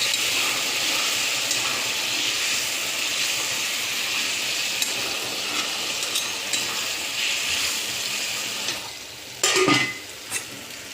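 Water poured into a hot pan for an Assamese sour fish curry with borali fish and ou tenga gives a steady sizzling hiss that holds for most of the stretch, with a sharper splash and burst near the end.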